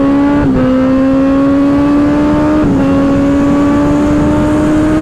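A 2024 Kawasaki ZX-10R sport motorcycle engine revs up in a loud rising whine, climbing through gear shifts with brief dips in pitch, close and continuous.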